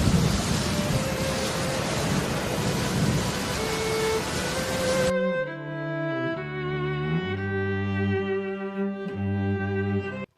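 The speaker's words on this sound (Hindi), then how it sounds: "अब फिर से बारिश बहुत तेज़ हो गई थी।" Heavy rain pours steadily for about five seconds as a dense broadband roar, then cuts to soft music with no rain; no thunder clap is clearly distinct.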